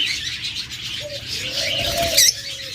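Lovebirds in a bird shop give short chirps and a rising squeaky call over a busy background of chatter from other caged birds, fairly close.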